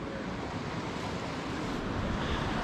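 Forceful water gushing from a drainage pipe outdoors in the Scottish wilderness, a steady, loud broadband roar with no letup, blended with wind buffeting the microphone.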